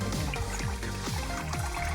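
Water pours and circulates steadily through a toolbox sluice during paydirt processing, a continuous close trickle with repeating gurgling surges and no talk.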